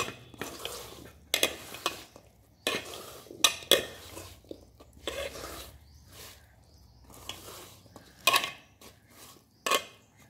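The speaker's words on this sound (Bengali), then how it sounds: "মাছগুলো দিয়ে একটু এইভাবে নাড়িয়ে নেব।" Small darke (chuno) fish stirred in a cooking pan, a series of irregular scrapes and clinks of a utensil against the pan over a faint sizzle, close and sharp with short pauses between strokes.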